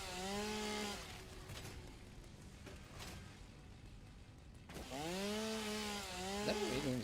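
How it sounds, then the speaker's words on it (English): A video game chainsaw revs in two loud bursts with rising and falling engine pitch, separated by a quieter idle stretch of low rumble. "all we're going to do is a bit of chainsaw work around it"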